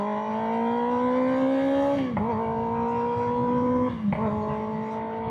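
Motorcycle ridden along a city street with many traffic lights, its engine holding a steady loud drone that dips briefly twice as gears shift, then picks back up.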